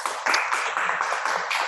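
Audience applause at the close of a Princeton AI Club talk by Professor Yoshua Bengio, a steady dense clapping that carries on evenly without voices.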